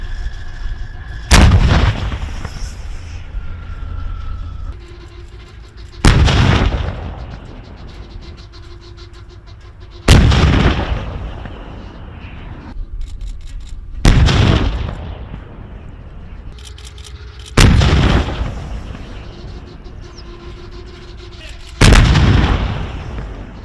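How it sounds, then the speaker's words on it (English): A 2S1 self-propelled howitzer fires at Russian troop concentrations in eastern Ukraine, with six loud, sharp blasts spaced several seconds apart, each followed by a rolling, decaying rumble. "2С1 наносить вогневе ураження по скупченню російських військ."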